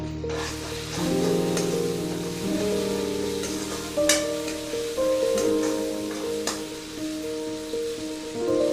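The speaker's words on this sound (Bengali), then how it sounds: "মশলাটা আর একটু কষানো হবে, তেলটা উপর দিকে ভেসে আসবে।" Spice paste with chilli powder frying in oil for a Bengali fish curry, a steady close sizzle with scraping stir strokes and a few sharper clinks of the spoon against the pan throughout.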